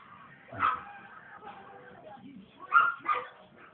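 A pet dog gives short whimpers and a few sharp yips, three distinct bursts over a quiet background, with people talking softly in between.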